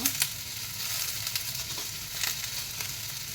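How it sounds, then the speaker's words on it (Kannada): Cinnamon and cloves frying in a pan give a steady, close sizzle with a few sharp pops and light scrapes from stirring, and no voices. "ಇದನ್ನು ಚೆನ್ನಾಗಿ ಫ್ರೈ ಮಾಡ್ಕೋಬೇಕು."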